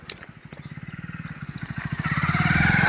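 A motorcycle engine putters in rhythmic low pulses that quicken and swell louder as the bike approaches and revs up close.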